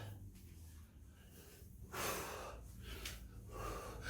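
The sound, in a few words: heavy breathing during cardio exercise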